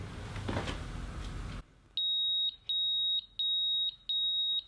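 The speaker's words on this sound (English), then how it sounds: "you get a countdown timer when entering" Noise cuts off, then a Pyronix Enforcer wireless alarm panel sounds its entry countdown, a high-pitched electronic beep four times in a steady rhythm, each tone long and loud with short pauses between.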